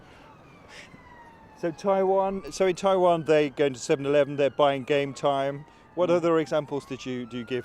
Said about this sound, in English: Apologies for the siren in the background.